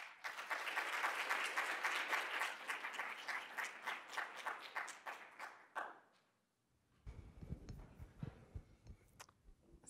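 Audience applause welcoming a nutrition professor to a lecture on dissemination and implementation research: steady, dense clapping fills the room for about six seconds, then fades into a pause, followed by lighter scattered taps and handling noises.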